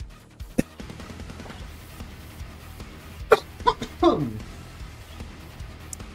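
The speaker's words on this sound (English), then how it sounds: "Coughing." A few close, abrupt coughs in a short cluster partway through, with a gaming setup's quiet room noise around them.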